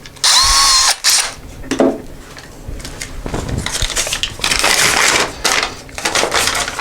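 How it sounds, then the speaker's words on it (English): An electric drill drives a screw into a drywall anchor while mounting a toilet paper holder: a loud whirring burst at the start, then several shorter grinding, stop-start runs of the motor close by. "we're going to take our electric drill and we're going to screw that in"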